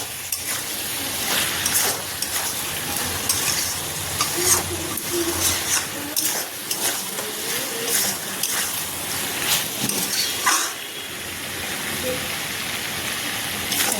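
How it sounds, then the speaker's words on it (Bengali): Chicken frying with spices in a pan over a low gas flame, a steady broadband sizzle with scraping stirs breaking through at intervals, close and continuous with no talk. "ভালোভাবে মশলার সাথে চিকেনকে ভালোভাবে ফ্রাই করব।"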